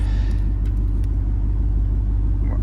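A Ford Expedition engine idles steadily with a low, continuous rumble, close and even throughout with no revving.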